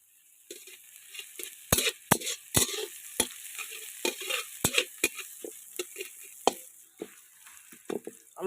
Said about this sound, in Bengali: এই যে আমাদের পেঁয়াজটা হালকা করে ভাজা হয়ে গেছে